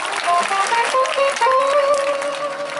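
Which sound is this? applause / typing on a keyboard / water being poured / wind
applause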